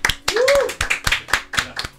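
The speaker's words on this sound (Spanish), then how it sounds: "Un aplauso para el Pelado." A studio audience claps for a show's host: a series of sharp, separate hand claps in a loose rhythm, close by, with a voice calling out over them.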